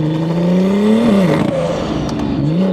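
Loud, close engine note of a heavily tuned 1500hp BMW M140i on a large turbo, climbing in pitch under acceleration with a whistling whir of turbo spool, then dipping and rising again at a gear change.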